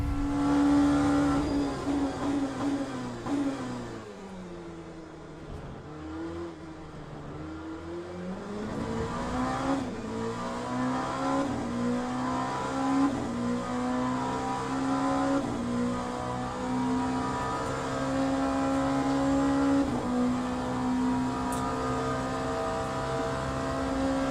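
Race car engines roar in the Le Mans Ultimate sim racing game, one loud engine dropping in pitch as it slows, then climbing and revving through gear changes over a steady drone of other cars.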